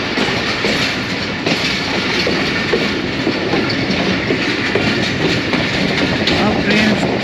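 Express train running on rails between Lahore and Gujar Khan, a steady loud rumble with rhythmic clickety-clack of wheels over rail joints, heard continuously from inside the carriage with a faint murmur of voices.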